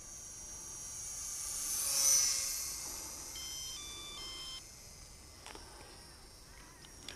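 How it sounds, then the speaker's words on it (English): Skynetic Model 220 RC airplane making a close flyby, its high electric whine swelling to a peak at about two seconds and then fading, followed by a few faint transmitter beeps. "See if we can come in for a close flyby."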